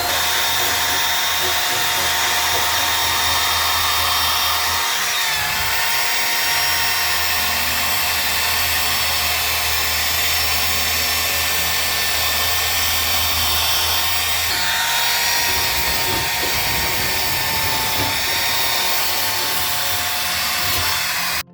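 A wire wheel grinds rust off a badly corroded OBS Ford F-150 fuel tank, giving a loud, continuous high-pitched whirring scrape with a steady tool whine that shifts slightly in pitch as pressure changes.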